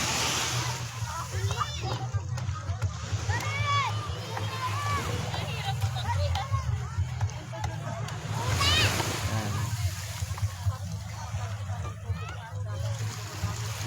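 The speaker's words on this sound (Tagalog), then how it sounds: "Daming naliligo." Crowds swim and splash in clear seawater at San Antonio, Zambales, with steady sloshing and splattering water throughout, mixed with children's voices and people talking nearby, all under a constant outdoor wash of sound.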